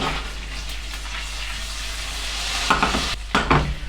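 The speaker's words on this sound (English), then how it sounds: "So the garlic into the pan." Garlic, finely julienned, dropped into a pan over the lowest heat, giving a soft continuous sizzle and hiss close by, with a few brief louder clatters near the end.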